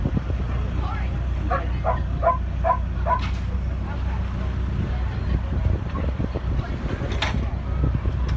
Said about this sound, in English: These are the bigger dogs they're getting off now.